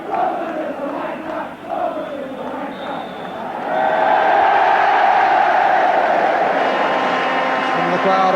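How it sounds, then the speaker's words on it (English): A football stadium crowd at a Tottenham Hotspur home league match applauds and cheers, building into a loud, sustained roar, with a commentator's voice over it. "Crowd applaud a very satisfactory opening performance by Tottenham"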